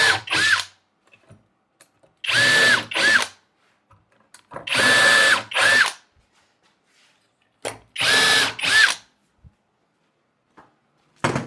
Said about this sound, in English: I'm pre-drilling just a little bit just to make sure that that hackberry can't split